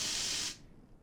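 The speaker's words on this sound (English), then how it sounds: "this is the first time anyone's ever tried to use pepper spray on me" A can of pepper spray fires one loud, hissing burst lasting about half a second, then cuts off, leaving quiet room tone.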